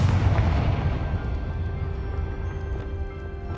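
Confringo blasting spell in the video game Hogwarts Legacy, a heavy booming explosion at the start that rumbles and decays over a few seconds, loud and close with no speech.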